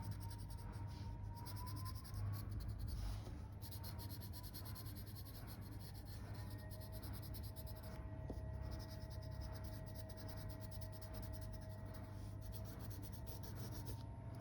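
Colored pencil scribbles steadily on paper, a continuous close scratching and rubbing over a low background hum, with no talking.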